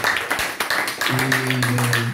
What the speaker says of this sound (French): Est-ce que nous pouvons donner une acclamation pour le Seigneur de gloire?